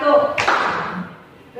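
A single sharp hand clap from a teacher leading a classroom exercise, close and clear, cutting into her speech and then ringing out briefly before she talks again.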